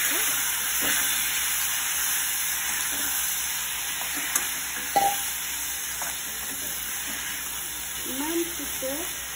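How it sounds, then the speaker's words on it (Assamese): Singhi fish frying in a pan with steady sizzling hiss throughout, a few faint clinks and stirring sounds, and brief quiet voices in the background. "ইমান পিছে শিঙি মাছ ফ্ৰাই কৰিলে"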